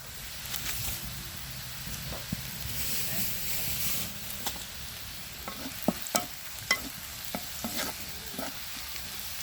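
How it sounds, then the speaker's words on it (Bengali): Crushed garlic, onion and a bay leaf sizzle in hot oil for tempering dal, a steady frying hiss broken by scattered pops and stirring scrapes, with intermittent quieter clinks near the end. "ডালটা এখন তেলানি দিয়ে নিব"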